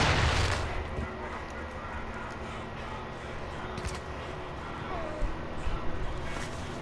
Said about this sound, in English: Taking effective fire. Throwing flash grenade.